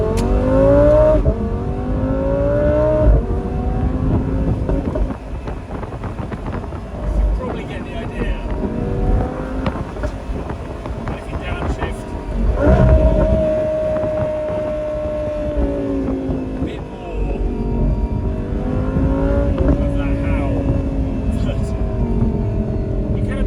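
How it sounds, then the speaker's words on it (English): An Audi R8 V10 with an Akrapovic exhaust, valve open, drives past loudly, its engine note rising and falling through repeated revs and gear changes over a steady roar, with some talking mixed in. "let me show you what the Akrapovic exhaust valve does sound like when it's open"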